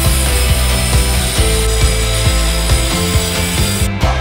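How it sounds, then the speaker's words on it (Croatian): A Parkside jigsaw cuts a curved top edge into a wooden board for a serving board, a loud, steady buzzing rasp with a rapid regular pulse from the blade stroking through the wood. "Gornji obrub daske izrežemo ubodnom pilom u oblik kakav želimo."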